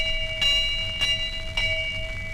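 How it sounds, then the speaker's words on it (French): A bell struck as a sound effect on a 1930s French comic radio broadcast, ringing three times at an even pace with a sustained tone over a constant hum and hiss, no voices. "Fais la cloche."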